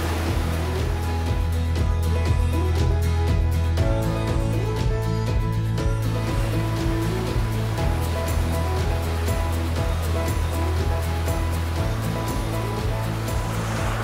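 Water from a small waterfall in a trout stream in Idaho rushing steadily, a loud, even wash of broadband noise with no breaks, close by and with no talk.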